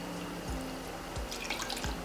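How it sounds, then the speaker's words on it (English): Water poured into a bowl of dry cornmeal for a Jamaican porridge, heard as a few soft drips and trickles over a steady hum, close and fairly quiet, with no talk. "I'm gonna put some water inside of it."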